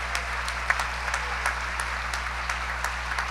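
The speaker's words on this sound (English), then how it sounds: "Yes, you deserve all the claps." Scattered clapping from an audience at a music teachers of excellence awards event, fairly faint and uneven, with distinct individual claps standing out over a low steady hum.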